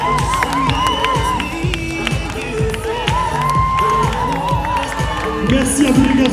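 The audience at a Musclemania bodybuilding show in Paris, cheering and shouting in a loud, dense crowd roar over pounding music with a steady beat, with whoops rising above it throughout.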